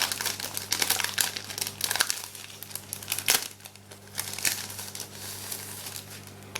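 Thin card stock from a miniature playing card sheet crinkles and crackles up close, with continuous rustling handling noise and a few sharper snaps as pieces are worked loose.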